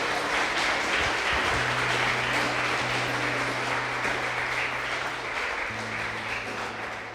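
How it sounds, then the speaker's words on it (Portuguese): Sustained applause from a church congregation during a Portuguese-language sermon, broad and steady clapping with a low hum underneath, easing slightly toward the end. "Você pode aplaudir a Deus por isso,"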